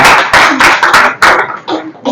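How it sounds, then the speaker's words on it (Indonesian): Applause follows a group presentation in a classroom teaching session. It comes as a few loud, close bursts of clapping, each starting suddenly and fading quickly. "keren-keren, tepuk tangan"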